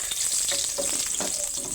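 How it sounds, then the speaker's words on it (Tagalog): Garlic sautés in a pan for monggo, mung bean stew, a close, bright crackling sizzle with a few short stirring clicks, no talking. "Gigisa si bawang."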